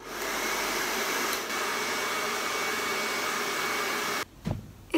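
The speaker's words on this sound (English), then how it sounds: "First time blow drying my hair, I'm telling you." A hair dryer blows steadily and loudly as it dries hair, holding a constant roar for about four seconds before cutting off, followed by a few brief rustles.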